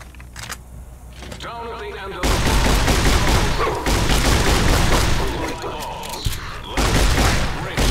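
Video game combat in Fallout New Vegas, Old World Blues DLC, as a riot shotgun fires repeatedly in a dense, loud burst of booming blasts and impacts. A voice speaks during the quieter opening.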